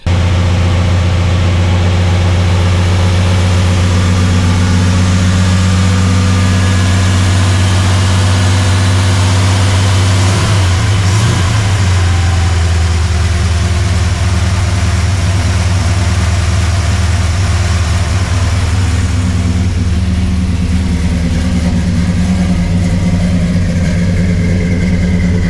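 A Chevy C10 small block V8 runs loud and steady at idle, with a deep low rumble and a brief surge around the middle, alone with no voices.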